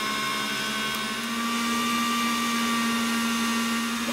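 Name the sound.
Kenwood Cooking Chef mixer whisking egg whites at max speed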